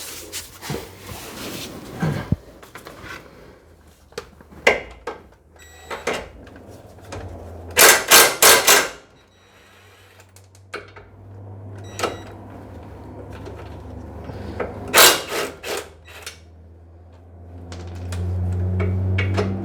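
A 17 mm wrench loosens the anchor bolts of a car suspension arm, giving sharp metallic clicks, clanks and short ratcheting bursts close by, separated by quiet pauses.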